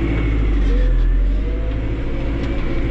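A tractor engine holds steady revs while ploughing a never-tilled farm field, producing a loud, continuous low drone with a faint rising whine above it.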